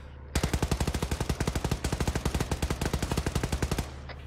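Sustained automatic machine gun fire in the military shooter Arma 3, a fast, steady stream of loud close-range shots lasting several seconds without pause, ending abruptly.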